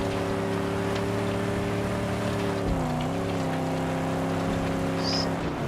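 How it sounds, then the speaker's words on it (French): A V6 car engine in the Mad Max video game drones steadily while driving, with a smooth harmonic whine that dips and shifts pitch midway as the throttle changes, then holds on. "Elle est rapide cette voiture quand même."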